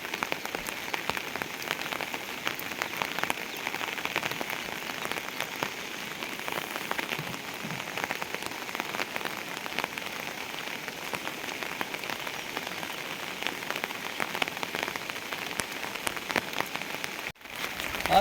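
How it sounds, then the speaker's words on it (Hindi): Heavy rain falling in Uttarakhand near the Gomti river, a dense, steady hiss of drops pattering on surfaces close by, unbroken for the whole stretch apart from one brief dropout near the end. "आज डूब गया है बारिश।"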